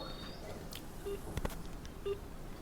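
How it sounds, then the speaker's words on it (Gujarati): Telephone keypad tones sound as a number is dialled, with a few short, quiet beeps spaced across a couple of seconds and faint background noise. "વિનયભાઈ નામ છે તો હાલો ડાયરેક્ટ ફોન કરી દઈ"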